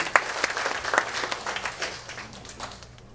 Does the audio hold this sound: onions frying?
no